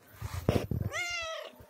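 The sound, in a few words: cat meowing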